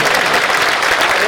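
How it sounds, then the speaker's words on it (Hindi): Dense, loud applause from a large audience at a Bhagwat Katha religious gathering in Antop Hill Sector 7, Mumbai, a continuous wash of clapping filling the whole moment. "आप ताली तो बजा, ऐसे में जोश हो जाए।"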